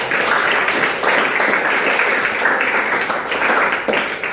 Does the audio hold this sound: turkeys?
no